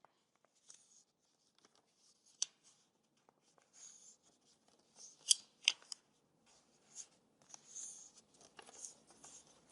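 Paper folded along a crease during a craft workshop, giving faint, scattered crinkles and sharp creasing snaps, with a couple of crisper clicks midway and soft rustling at the end, close and quiet with no talk.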